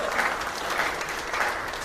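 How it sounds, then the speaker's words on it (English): Audience applause during a live networking and presentation session, a steady, moderate wash of many hands clapping throughout, with no voice on top. "he deserves an applause"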